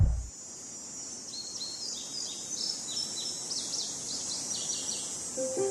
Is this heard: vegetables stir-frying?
no